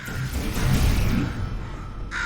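A crow caws in the Portal 2 video game, a harsh, rasping call repeated a couple of times at close range over a low ambient hum, with no talk.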